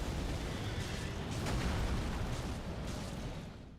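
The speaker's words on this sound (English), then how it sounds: "you'll start it off with a fucking explosion of ghostlight" A ghostlight explosion at the start of a boss fight in Elden Ring: a dense, roaring blast of noise fills the whole few seconds at steady loudness, then fades slightly at the end, with no voices.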